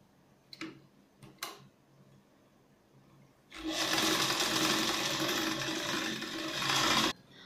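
Sewing machine stitching the shoulder seams of a lined katori blouse, a fast steady whirring run of about three and a half seconds, close and loud, preceded by a few light clicks and taps as the fabric is positioned.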